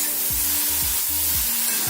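Eggplant frying in a pan while being stirred, steady sizzling hiss with several soft stirring scrapes at a regular pace, close and fairly loud.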